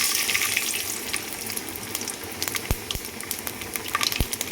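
Mustard seeds and urad dal spluttering in hot oil in a kadai for tempering a pumpkin kootu, a steady close sizzle with scattered sharp pops growing more frequent toward the end, no voices.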